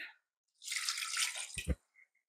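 Water pours briefly into a cooking pot of boiled beans for a curried bean dish, a close splashing rush ending with a couple of knocks and drips.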